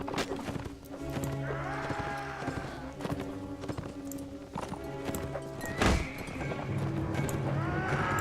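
Horses in the medieval combat game Mount and Blade Warband, with repeated hoof clip-clops and a neigh over busy battle noise and music, fairly close and steady in level.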